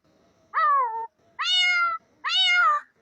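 Three distinct, clear meows in a row, evenly spaced with short pauses, close and loud, a bird's convincing imitation of a cat.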